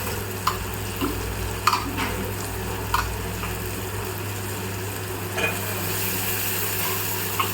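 Potato, drumstick and capsicum sauté in a pan for kara kuzhambu, a soft sizzle under a steady low hum, with a handful of distinct spoon scrapes spaced a second or two apart.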